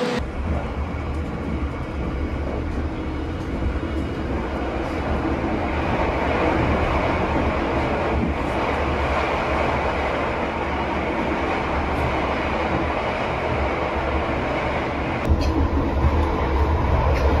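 From inside a moving KA Taksaka passenger train just departed Yogyakarta, a steady loud rumble of wheels and carriage noise fills the cabin, continuous and even throughout, with a brief bump near the end.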